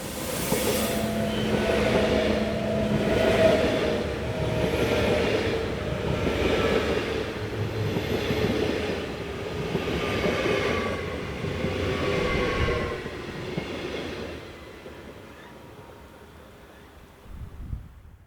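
Swiss Class 502 train set number 4, running from Zurich on a mainline, passes with a sustained rolling rumble, rhythmic wheel beats and a tonal motor whine that fades away toward the end.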